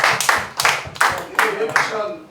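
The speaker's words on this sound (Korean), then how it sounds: "박수를 한번 드립니다." Claps from attendees at a Korean church prayer rally press conference, about five distinct sharp claps in an even rhythm, close and fairly loud.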